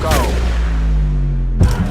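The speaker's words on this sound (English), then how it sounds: "A shot fired." One sharp gunshot rings out inside the U.S. Capitol during the January 6th breach, a loud close crack with a booming low tail, followed by a second thud near the end.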